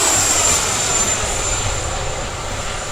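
An E-flite F-16 80mm electric ducted-fan RC jet passes overhead with a loud, whooshing roar and a high whine from the fan, steady then slowly receding.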